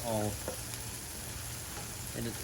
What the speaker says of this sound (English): I actually tossed in a sausage, cook it at the same time